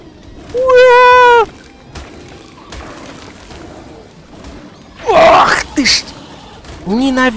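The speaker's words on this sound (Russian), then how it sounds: "Вот овца." A sheep in ARK: Survival Evolved bleats loudly in two long wavering calls, one at the start and another near the end, with louder rustling bursts between them.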